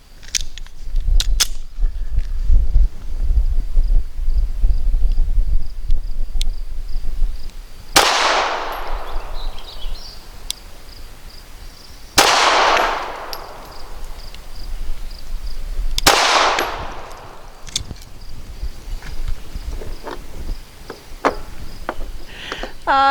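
Three sharp, loud pistol shots from a Smith & Wesson Shield EZ .380 firing PMC Starfire 95-grain rounds ring out several seconds apart, each with a short echoing decay, over quiet outdoor background.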